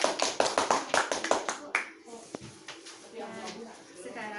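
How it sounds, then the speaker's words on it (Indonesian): A classroom of children claps together in quick, rhythmic bursts of about eight sharp claps, then taps and classroom noise follow as a teacher's voice talks over the room. "Tepuk tangan untuk kita semua."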